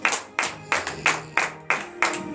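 A church congregation claps together in acclamation, seven sharp, evenly spaced claps in a steady rhythm, loud and near, with a faint tone underneath and no one speaking.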